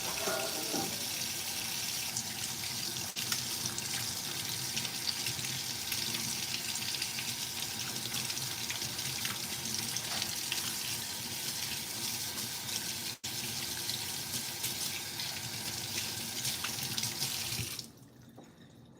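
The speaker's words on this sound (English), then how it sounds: "Let me wash my hands." Hands being washed under a running kitchen tap, a steady close gush of water splashing into the sink that carries on without pause and then cuts off near the end, with no voices.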